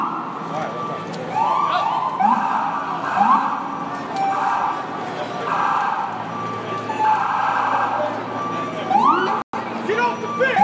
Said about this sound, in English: there's all these police cars in the middle of the road